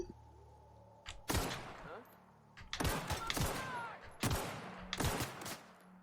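Loud volleys of gunfire burst out in The Outer Worlds against a group of marauders: three heavy clusters of rapid shots, each lasting about a second, separated by brief quieter gaps.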